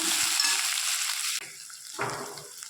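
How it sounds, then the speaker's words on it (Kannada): Crushed garlic and green chillies sizzle steadily in a hot pan, a continuous close frying hiss broken by a brief stirring scrape partway through, with no voices. "ಮೆಣಸಿನ್ಕಾಯಿ ಸ್ವಲ್ಪ ಫ್ರೈ ಆದಮೇಲೆ ಜಜ್ಜಿ ಇಟ್ಕೊಂಡಿರೋದನ್ನ ಹಾಕೊಳ್ತಾ ಇದ್ದೀನಿ ಹಾಕೊಂಡು ಚೆನ್ನಾಗಿ ಮಿಕ್ಸ್ ಮಾಡ್ಕೊಳ್ಳೋಣ"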